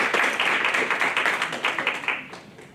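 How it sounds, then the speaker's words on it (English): Audience applause for honors students at an academic conference, brisk, fairly loud clapping from a group that fades away within a few seconds. "Can we give them a hand of applause?"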